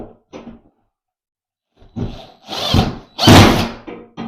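Short bursts of a power drill whir and roar in quick succession, the last loud and close, following a couple of brief clicks and a pause.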